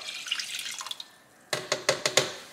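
Water is poured into a pot for cooking oatmeal in a home kitchen, with a soft trickling stream followed by several distinct splashing gulps as the liquid lands, fairly close and with no talking.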